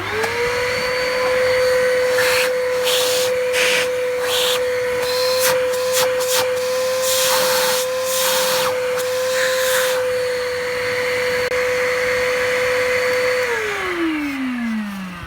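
A Hoover Curve canister vacuum cleaner motor whines steadily at a constant pitch outdoors in strong wind, with rushing air and wind noise, then spins down near the end.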